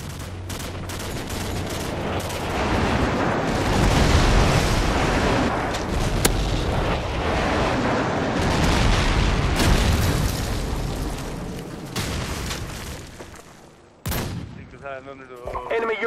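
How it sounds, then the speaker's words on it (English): Airstrike bombs hit in Call of Duty 4 multiplayer, a long run of dense, overlapping booming explosions and gunfire that swells and rolls for about fourteen seconds, ending in a sharp crack and scattered debris. "Friendly airstrike on the way."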